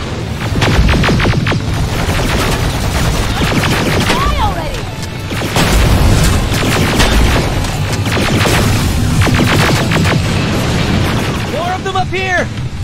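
Grenades explode during a firefight in Terminator: Resistance, dull booms mixed with rapid gunfire and bursts, loud and close, while voices shout over the battle.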